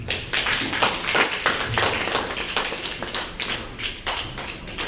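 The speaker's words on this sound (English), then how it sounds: "I think we should give them another round of applause" Audience applause in a conference hall, a steady dense patter of many hands clapping close by, continuous and fairly loud with no talk over it.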